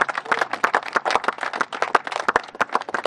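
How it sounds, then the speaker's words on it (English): A small group of children claps at an outdoor 9/11 flag garden event, irregular, uneven hand claps close by, bunched and scattered rather than a smooth roar, lasting a few seconds. "Can you give a round of applause?"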